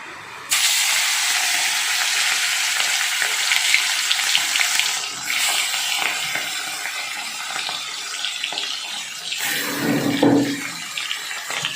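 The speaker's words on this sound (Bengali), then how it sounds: "এবার এই ছোটো ছোটো ইলিশগুলো আমি হালকা করে ভেজে নিচ্ছি" Small hilsa fish frying in hot mustard oil in a kadai, giving a steady loud close hiss and sizzle throughout, briefly swelling near the end, with no talk.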